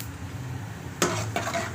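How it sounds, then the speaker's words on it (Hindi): Cumin seeds roast in hot oil in a kadhai, a soft steady sizzle broken by two brief scraping stirs of a spatula against the pan. "बस 30 सेकंड तक हम इसे जो है ना ज़ीरे को भूनेंगे"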